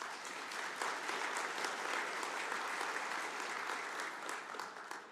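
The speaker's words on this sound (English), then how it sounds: "So I'd like you to give each other a round of applause for your achievements." Delegates at a New Zealand horticulture conference break into sustained applause, a thick, even wash of clapping hands that carries steadily for several seconds before easing slightly at the end.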